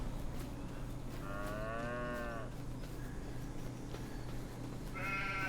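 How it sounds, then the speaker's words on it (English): Cows on a farm mooing, two drawn-out calls with a third starting at the end, moderately near over steady low outdoor hum. "Let's check on the cows"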